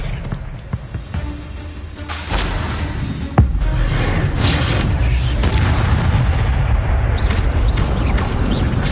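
Spell-casting combat in the Hogwarts Legacy video game plays out as a dense wash of magical whooshes and crackling effects with a heavy boom partway through, loud and continuous.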